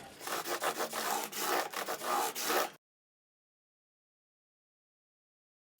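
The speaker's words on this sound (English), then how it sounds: "You can hear the sound change with the lighter grit." Fine-grit sandpaper sanding the rosewood side of a Martin GPC PA3 acoustic guitar, a close, rapid series of rasping back-and-forth strokes for under three seconds, then silence.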